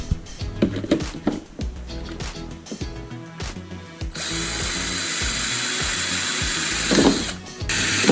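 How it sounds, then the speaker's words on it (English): A plastic storage bin gets rod holders riveted on from the inside, with a run of sharp clicking rivet-tool strokes and then a steady whirring drill for several seconds, close and loud with no voices. "When riveting the rod holders onto the bin, make sure you rivet from the inside of the bin."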